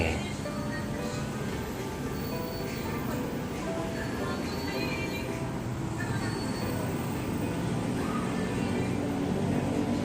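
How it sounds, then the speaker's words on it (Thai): A steady, loud rumble of a train at an elevated skytrain station at night in Bangkok, Lak Song station, with broad continuous noise and a faint murmur in the background. "สถานีรถไฟฟ้าหลักสองนะครับ หน้าห้างเดอะมอลล์บางแค"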